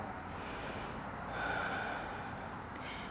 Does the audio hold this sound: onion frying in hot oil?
no